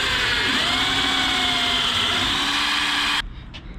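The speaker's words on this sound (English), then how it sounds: "So let's get a hole drilled in this" A power drill runs steadily, boring a hole through the metal body of a camper van as part of fitting off-road LED light bars. The loud, continuous whine holds for about three seconds and then cuts off abruptly.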